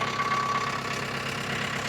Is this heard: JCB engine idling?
yes